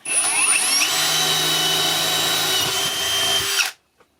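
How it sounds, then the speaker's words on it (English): A power drill runs nearly continuously for about three and a half seconds, with a loud high whine, boring one of the center-punched rivet holes in sheet metal for a DIY glass-fusing kiln build. It then cuts off abruptly, leaving a single small knock in silence. "drill one hole,"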